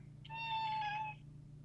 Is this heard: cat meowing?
yes